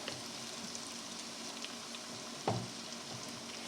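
Mushrooms fry in butter in a pan with a steady, quiet sizzle and crackle, broken by one brief clatter of stirring.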